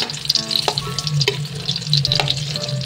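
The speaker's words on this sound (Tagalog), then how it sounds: "meron nga tayo ditong pinainit na mantika. At nilagay na rin natin yung ating sibuyas at saka yung ating bawang" Onion and garlic sautéing in heated cooking oil, a close, loud sizzle with spatula scrapes and clinks on the pan.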